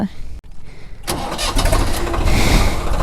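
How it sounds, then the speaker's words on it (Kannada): A tractor engine, used for rice transplanting in Karnataka, cranks and catches about a second in, then settles into a loud, rough, close running rumble that builds slightly toward the end. "ಗಾಡಿ ಸ್ಟಾರ್ಟ್ ಮಾಡೋಣ"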